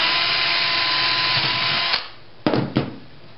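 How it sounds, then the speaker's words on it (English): A power drill whirs steadily for about two seconds while drilling through a plastic bottle, then stops, followed by two short bursts of the drill revving up close by. "take a drill and drill in through the bottle"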